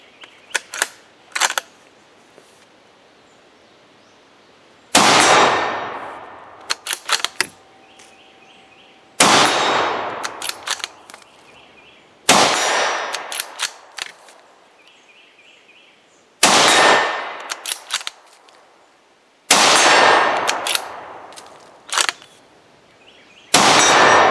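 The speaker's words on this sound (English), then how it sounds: "We'll go ahead and do some more shooting on it." Rifle shots ring sharply off a CTSTargets ABC Zone steel target on its stand, loud cracks each followed by a metallic clang, fired in spaced bursts of several shots with short quiet gaps between them.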